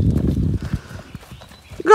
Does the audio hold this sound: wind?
no